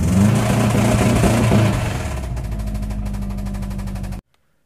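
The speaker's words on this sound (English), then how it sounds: "I confirmed the launch control does work." A Subaru WRX engine on launch control, loud and continuous, with rapid machine-gun-like popping and crackling over a droning engine note for about four seconds before it cuts off abruptly.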